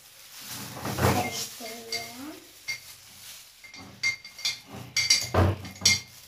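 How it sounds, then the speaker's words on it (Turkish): Hair dye stirred in a bowl with a gloved hand, giving soft, intermittent scraping and clinking against the bowl, close and fairly quiet, with a few brief knocks toward the end. "boyamı karıştırmaya başlıyorum"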